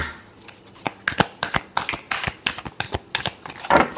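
Tarot cards are shuffled by hand close up, giving a quick run of crisp riffling snaps and flutters in an uneven rhythm, with no talking.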